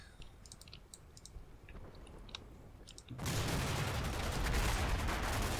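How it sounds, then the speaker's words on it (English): Gunfire in the Combat Mission video game, quiet scattered clicks and faint distant shots at first, then a sudden loud burst of sustained rattling fire that continues to the end. "Who Cherkasov is hopefully about to shoot in the face, or at least shoot at somebody."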